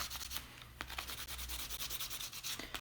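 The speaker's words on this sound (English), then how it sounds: "you're going to buff that whole nail" A buffing block rubs over a fingernail to break the seal of gel polish, a close, soft, rapid scratching in repeated short strokes, faint and steady with no talking.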